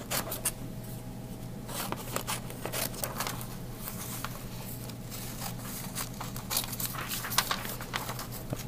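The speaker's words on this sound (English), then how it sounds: "So I might cut out a few rectangles." Scissors cut paper into rectangles in a quiet room, with a run of small crisp snips and rustles of paper over a faint steady hum.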